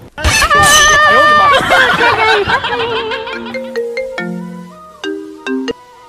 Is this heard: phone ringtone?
yes